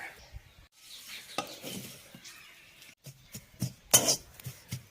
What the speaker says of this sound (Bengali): কড়াইটা গরম হয়ে গেছে, নিম পাতাটা চলুন এরপর ভেজে নেব।